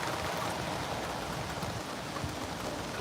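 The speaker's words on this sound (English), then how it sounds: "Go away, Rain." Rain falling outdoors, a steady dense hiss of drops hitting a surface, loud and unbroken with no voices.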